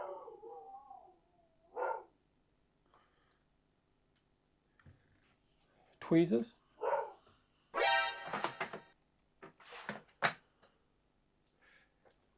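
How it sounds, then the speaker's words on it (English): A dog barks at someone arriving at the door of a room where a Nintendo Switch is being repaired, several sharp, loud barks clustered in the middle of a mostly quiet stretch, with a faint voice near the start. "my dog didn't like whoever came to my door"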